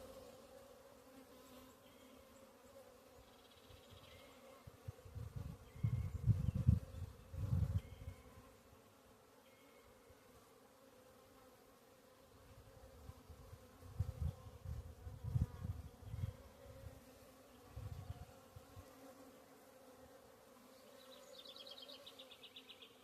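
Honeybees buzz in and around an opened hive where queens are hatching, a faint continuous drone with two louder close swells as bees fly past the microphone.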